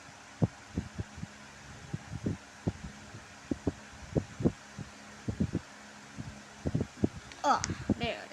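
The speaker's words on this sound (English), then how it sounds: "My very first Paternoster elevator." Paternoster elevator running, with a steady low hum under rhythmic, thudding clunks repeating roughly every half second, and a voice briefly heard near the end.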